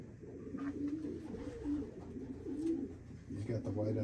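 A yearling racing pigeon coos softly in repeated low murmuring calls, close by, while people talk over it throughout.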